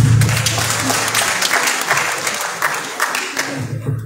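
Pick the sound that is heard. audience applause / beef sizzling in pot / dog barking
audience applause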